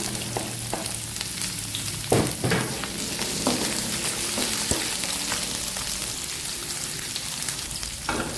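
Chopped onion fries in a pan (kawali) after garlic has gone in. It makes a continuous close crackling sizzle, with a few sharper pops and utensil scrapes scattered through it, and nobody talks.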